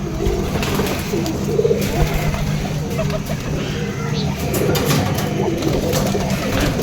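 High flyer pigeons coo softly and repeatedly against a steady outdoor background hum, with a few faint bird calls mixed in.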